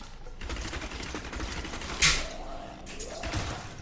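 Demon Hunter's Rapid Fire skill in Diablo 3, a stream of quick mechanical shots with clattering thuds and a sharp bright burst midway, over game ambience.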